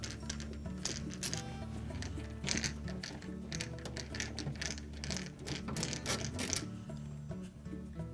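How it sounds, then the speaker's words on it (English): A ratchet backs out quarter-inch hex head screws from the back panel of a Whirlpool refrigerator, giving rapid repeated clicking bursts close to the microphone over a low steady mechanical hum. "We're next going to remove 4 screws in this sub back panel that holds the valve."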